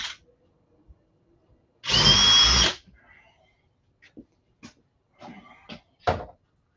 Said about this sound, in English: I just drilled that with a 5/16 brad bit, but we'll use a quarter chaser.